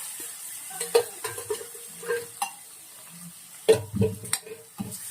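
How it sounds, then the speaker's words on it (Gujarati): Green chilli sautéing in a pan with tomatoes going in, for Sindhi dal pakwan: a soft, low sizzle under intermittent spoon scrapes and clinks against the pan, with a louder clatter cluster near the end and no voices. "હવે થોડી વાર એને સાતળીશું હવે અંદર આપણે ટમેટા નાખીશું"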